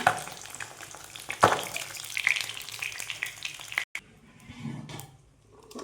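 Bata fish frying in hot oil: a steady, close sizzling hiss that stops suddenly near the end, leaving a quieter bubbling.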